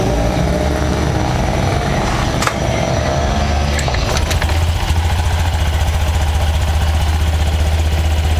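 A motorcycle engine idles smoothly and continuously close by, a steady low mechanical hum with a few light ticks, and no voices.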